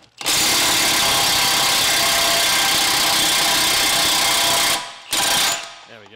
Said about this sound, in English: I've got my impact socket here and my impact gun